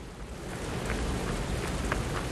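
Steady rain falls in the video game Lies of P, a constant dense hiss with faint scattered drops, with no speech over it.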